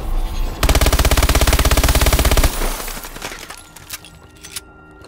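MP11 submachine gun in Call of Duty Advanced Warfare firing at mid-range: one loud, rapid automatic burst of about two seconds, then fading echoes and a few scattered clicks and clinks.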